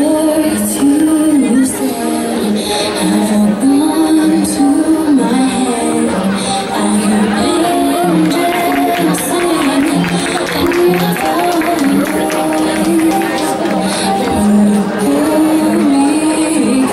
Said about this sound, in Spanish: Un aplauso para los alumnos de sexto B